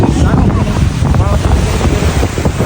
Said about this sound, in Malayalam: ഇതൊരു കടലിന്റെ നടുവില എന്ന് പറഞ്ഞു